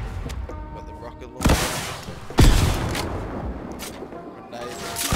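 Rocket launcher firing in Fortnite, two sharp booming blasts about a second apart, each with a short rumbling tail, set against steady game noise with a faint further thump at the end.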